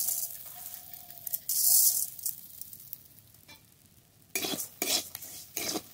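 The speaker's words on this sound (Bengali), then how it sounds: "নেড়ে নেড়ে খুব ভালো করে ভেজে নেব" Dry rice grains stirred and fried in a blackened kadai that was used earlier for flattened rice, being prepared for jaggery moa. The stirring makes intermittent scraping, rustling strokes, with louder bursts toward the end and no voices.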